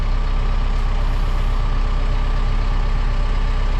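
A Kubota M4D-071 tractor engine idles steadily nearby, giving a continuous low diesel rumble with an even, unchanging rhythm and no speech over it.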